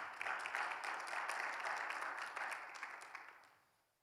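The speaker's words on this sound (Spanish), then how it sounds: "Denle un fuerte aplauso al Señor" Congregation applauding at a Bible seminar church service, a dense steady wash of many hands clapping together that fades out toward the end.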